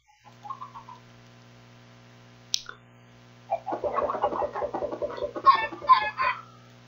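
Chickens cluck in a Minecraft game, a burst of rapid, repeated clucks and squawks that follows a quieter stretch with a brief chirp, heard alone at moderate loudness.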